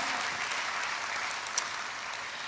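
A church congregation claps for Jesus in steady, continuous applause, heard from a distance and fairly soft, with a couple of sharper claps standing out partway through.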